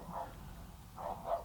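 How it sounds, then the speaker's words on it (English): A neighboring dog barks in the distance, a few faint muffled barks separated by a pause, heard through a quiet room with no talking. "I apologize for the barking dog."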